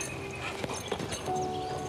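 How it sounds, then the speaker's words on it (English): A recently bought horse's hooves clip-clop in a few uneven, moderately close strikes over a hum of background noise, with a brief whistling tone near the end. "We've got this wonderful horse we've just bought."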